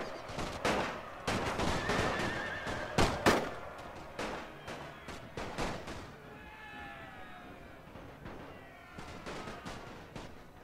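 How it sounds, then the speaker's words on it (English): Gunfire from an infantry unit in The Great War video game: dense bursts of rifle and machine-gun shots crack loudly in clusters, then thin to scattered reports while faint shouts and cries linger behind. "And just as they're about to reach the line, the unit opens fire."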